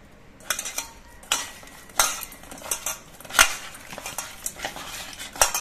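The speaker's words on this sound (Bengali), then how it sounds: "এবার মাছগুলোতে আমি নুন আর হলুদ মাখিয়ে নিচ্ছি।" Fresh khoyra fish being rubbed with salt and turmeric in a metal bowl, giving a run of close, sharp clinks and scraping knocks at an uneven rhythm with soft handling noise between them.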